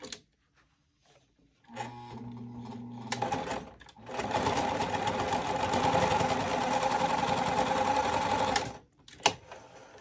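A sewing machine runs stitching a crescent-shaped winter bag near a D-ring, a short hum followed by a longer steady run of about five seconds, close and clear.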